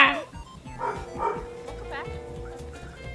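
A dog in the Mario 3D World video game gives a few short, yappy barks and yips amid game music and sound effects, under excited voices of players talking.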